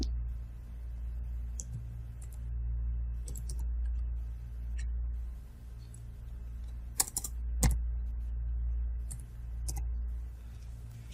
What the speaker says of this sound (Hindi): यहाँ पर नीचे हम ये कैप्चर कोड डाल देंगे और एंटर प्रेस करेंगे